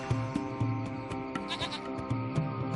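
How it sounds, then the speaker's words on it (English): A small goat hiding under a hut in the adventure game Lost Horizon gives a few repeated nasal bleats, fairly close and clear over a low steady game-music drone. "It's a small goat."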